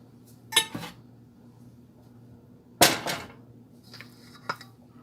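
Pumpkin chocolate chip loaf batter is scraped from a bowl into a loaf pan, with a few clear clinks and knocks of utensil against dishes spaced over several seconds in a quiet kitchen.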